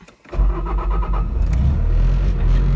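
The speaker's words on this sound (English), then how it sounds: "Let's go ahead and start her up." A Bobcat T590 skid steer cranks briefly, then its engine catches and settles into a loud, steady idle close by.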